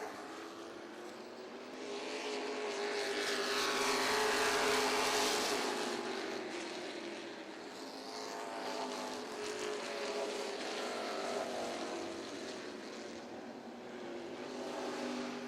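Sportsman race cars roar around the oval at Virginia Motor Speedway, engine noise swelling as a pack passes close and then fading to a steady distant drone, without talk.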